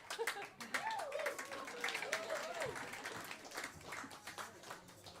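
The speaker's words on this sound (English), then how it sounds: "give yourselves a round of applause for supporting live music" An audience at a live music gig at a pub-style venue applauds the band. The scattered clapping is fairly faint and mixed with a little chuckling, while a person talks over it throughout.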